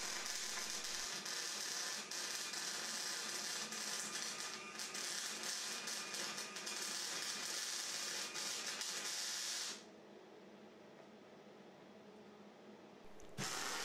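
Stitch welding over a spot-welded mounting on a 1980 Opel Kadett chassis leg, a steady close crackling hiss that runs for about ten seconds, then stops and leaves a quieter background hum before a final short burst.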